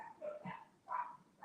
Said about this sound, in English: you guys hear my dogs barking?